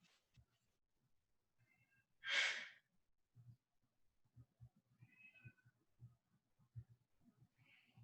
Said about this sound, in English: Maybe you can hear one of my cats screaming in the background.